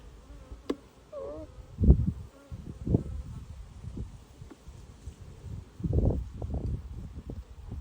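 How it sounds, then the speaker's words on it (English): Honeybees at an open hive buzz in close, uneven swells while fighting a wasp, with rustles and a few sharp bumps among the loose, droning bursts. "look, they're fighting this wasp."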